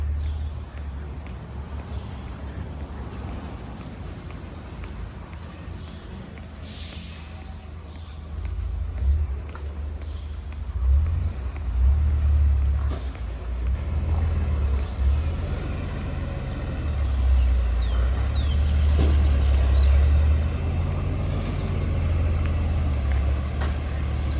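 A car carrier trailer unloads Isuzu vehicles at a dealership, low engine rumble rising and falling as vehicles move, with intermittent clanks and ticks over the steady drone.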